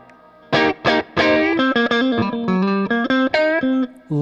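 A Fender Empire '59 Transition Stratocaster electric guitar plays a quick run of sharply attacked single notes with scooped mids and effects coloring, bright and close, with no talking.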